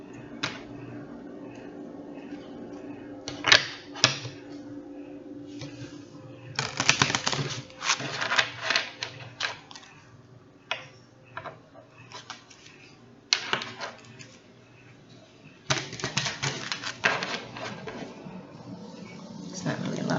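Repeated bursts of shuffling Kipper oracle card noise, papery riffles and taps, coming in clusters with pauses between, close up and moderately loud over a quiet room hum.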